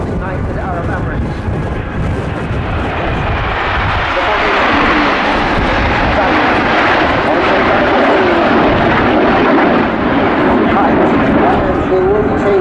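Jets of the United Arab Emirates aerobatic team roar overhead in formation at the Royal International Air Tattoo, RAF Fairford, a loud sustained rumbling engine wash that swells and holds throughout.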